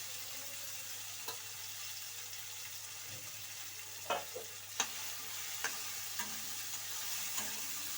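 Cut brinjal frying in a pan, a faint steady sizzle with occasional spatula taps and scrapes standing out, heard alone without talk.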